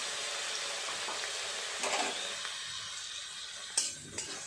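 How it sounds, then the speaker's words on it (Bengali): Eggplant frying in oil in a wok gives a soft, even hiss that thins out midway, with a couple of sharp utensil clicks near the end and no one speaking. "বেগুনটা আগে দিয়ে দেব, বেগুনটা একটু ভেজে নিয়ে তারপর ফুলগুলো দেব।"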